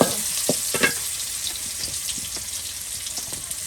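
Chopped onion dropping into hot oil for haleem, an early burst of clatter and stirring that settles into a steady, moderately loud sizzle with no speech.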